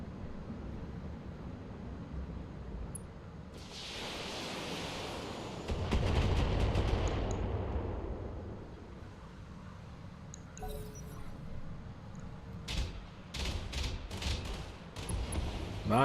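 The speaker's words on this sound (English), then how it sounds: "That turret, I think every shot from that turret hit." Turret fire in the Battletech video game, a long roaring burst of weapon blasts swelling and fading, then a string of sharp cannon-like shots cracking near the end, with no talking.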